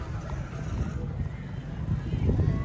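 A mare walks along at a fair country fair in Punjab, her hooves thudding in a steady, close clip-clop over constant low rumble and wind across the whole stretch.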